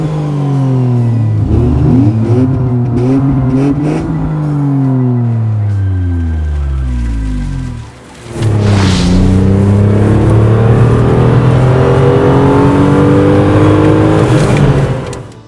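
A 1999 Opel Vectra i500 with an Irmscher-tuned V6 engine revs hard in rising, falling sweeps, close and loud, dropping briefly before climbing through another strong run of revs.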